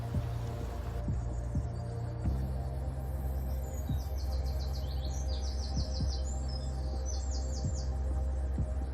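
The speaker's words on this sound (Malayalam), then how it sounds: "കേട്ടില്ലേ കിളികളുടെ ആ ഒരു എനർജി." Birds chirping and calling in Newsam Park, rapid repeated trills and tweets over a steady low outdoor hum, with soft intermittent thumps underneath; no talking.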